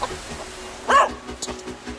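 Dogs at a park give a single short bark that stands out clearly over outdoor background noise, with a few softer yips and whimpers scattered around it.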